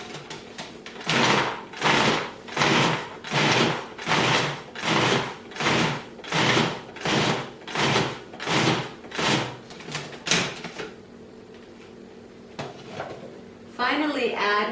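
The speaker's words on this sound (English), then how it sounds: "take your 1 cup of pecan halves and add them to the processor, and still using the pulsing motion, pulse them until the nuts are chopped" Food processor pulsing pecan halves, about a dozen even, loud bursts of whirring and chopping in a steady rhythm, then a pause with faint clatter.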